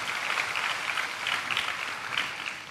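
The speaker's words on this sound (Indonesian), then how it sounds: "tepuk tangan yang paling meriah buat Tuhan" A church congregation claps together through a New Year service, a dense, steady wash of applause that fills the whole moment with no voices over it.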